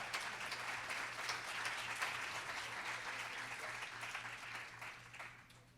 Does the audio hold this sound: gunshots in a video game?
no